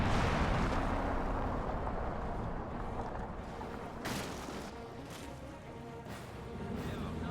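Anti-tank gun shots in the World War II strategy game Company of Heroes 2: a rumbling battlefield bed broken by several sharp, booming reports a second or so apart, fairly distant rather than close.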